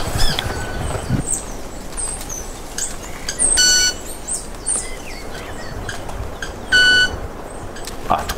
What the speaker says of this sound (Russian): Это единственные в мире птицы, способные издавать такие высокие звуки крыльями.